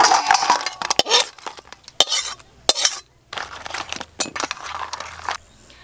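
Crab curry tipped from a cooking pot, with loud metallic clinks and scrapes of a utensil against the pot in irregular bursts, close and clear, with brief pauses between strokes.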